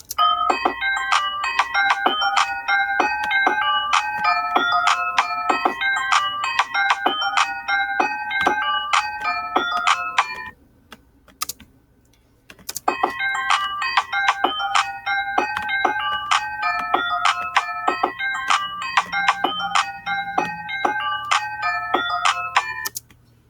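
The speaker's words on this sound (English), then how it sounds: "Now let's hear it with the melody." A beat built in Soundtrap plays back with its melody, a bright, chiming synth pattern over steady percussion. It loops continuously, drops out briefly near the middle, then resumes at full level.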